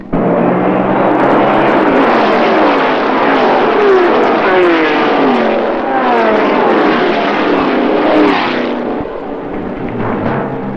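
A pack of 1971 Can-Am race cars, including orange McLarens, roars past on the pace lap at Riverside, a loud, dense engine drone that swells and fades as the cars pass, with no talk.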